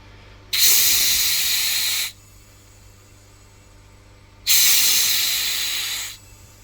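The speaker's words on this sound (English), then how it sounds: "I'm going to now purge them like with a lot of CO2." Two long bursts of CO2 gas hiss loudly from a line while purging empty mini kegs before a closed transfer, each blast about one and a half seconds, separated by a quiet pause.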